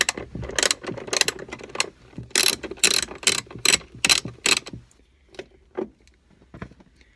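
Ratchet wrench breaking loose the upper grab bar bolt on a Jeep Wrangler windshield pillar, a close run of quick clicking bursts that fade into a few sparse, quieter clicks.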